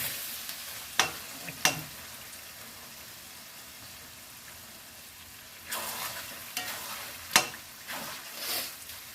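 Curd fish curry sizzling and frying in a pan while being stirred, a steady low crackle broken by several sharp scraping strokes of the spoon, close and alone.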